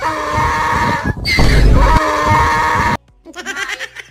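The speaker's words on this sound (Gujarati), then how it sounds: "ગધેડા ગાંગરે છે." Loud, harsh braying calls from donkeys, rising and falling in strained bursts, then a brief pause before fainter braying resumes.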